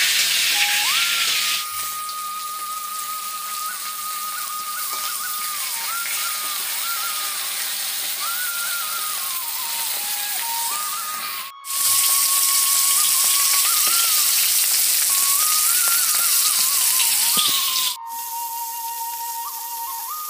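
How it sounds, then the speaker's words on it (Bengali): Small fish frying in a pan make a loud, steady hiss that runs throughout, overlaid by a wavering whistle-like tone, with two brief breaks. "মাছগুলো এখন ভেজে নিচ্ছি"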